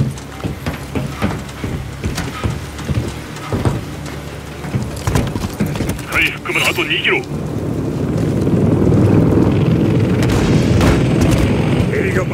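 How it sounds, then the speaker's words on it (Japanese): Helicopter closing in during a rooftop firefight in Call of Duty: Modern Warfare III, a low rotor rumble swelling louder under booms, gunfire and spoken lines. "またヘリが来る。"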